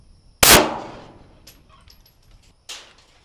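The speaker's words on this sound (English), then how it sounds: "All right, moving up to Glock 19. We're shooting a full metal jacket, 9mm." A Glock 19 fires a single 9mm full metal jacket round at a sewer manhole cover outdoors, a loud, close, sharp bang with a ringing tail, followed a couple of seconds later by a fainter secondary crack or impact.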